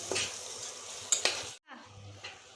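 Masala spices with chopped tomato for a chicken curry, frying in a pan with a soft, steady sizzle while being stirred, with a couple of sharp scrapes against the pan and a brief pause near the end.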